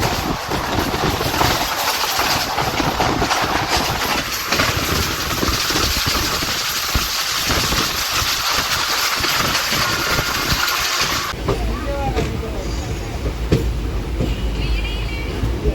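A passenger train rumbles along steadily with continuous broadband rail noise after leaving Khammam station in India, a shift in tone near the end as it runs on.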